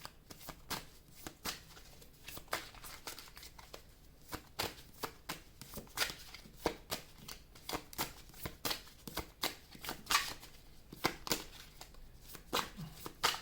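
A deck of cards is shuffled over and over, with quick riffling bursts and soft slaps repeating in an uneven rhythm for more than a dozen seconds. The shuffling is close but quiet, with no talking.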